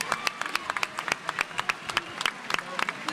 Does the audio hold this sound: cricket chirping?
no